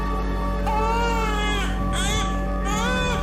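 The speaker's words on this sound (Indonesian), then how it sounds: "dia mendengar suara bayi menangis." An infant cries loudly in repeated wailing bursts as a sound effect in a ghost story about a spirit heard near an abandoned rice mill, with steady low hum beneath.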